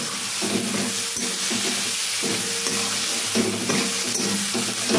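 A spice mixture seasoned with black pepper powder sizzles steadily in a pan for an egg curry, with periodic scraping strokes of stirring breaking through the close, continuous frying hiss.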